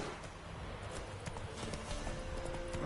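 A horse trots in the video game The Witcher 3, steady clip-clop hoofbeats at a moderate pace over a soft background ambience.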